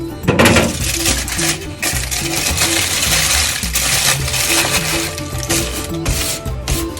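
Aluminum foil crumpled and crushed by hand in a kitchen while cooking a simmered cod fillet, a dense, continuous crackling and crinkling that runs loud and close for the whole stretch with no talk.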